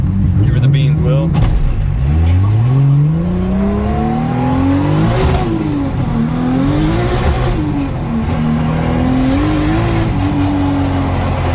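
Drift car engine revving hard during a downtown street cruise, loud and close, with pitch climbing, dropping and climbing again through repeated throttle blips, and voices heard over it.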